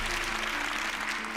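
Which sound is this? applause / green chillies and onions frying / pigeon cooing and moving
applause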